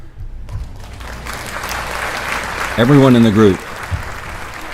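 An audience at a talk claps in a steady, moderately loud wash of applause that runs beneath someone speaking to the group.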